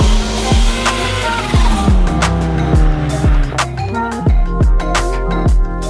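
Near 1000-horsepower stick-shift Corvette ZR1 driving hard, loud engine revving with repeated rising pulls and sharp gear-change drops, plus tire squeal and skidding, close and continuous throughout.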